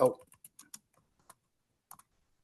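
A brief voice burst opens, then a few sparse, faint clicks of typing on a computer keyboard follow in an irregular, hesitant rhythm with long quiet gaps between keystrokes.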